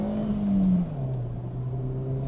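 A Kia Picanto GT Line S engine pulling up a small hill, a steady droning hum that dips in pitch and settles lower partway through, close and fairly loud, with no voices.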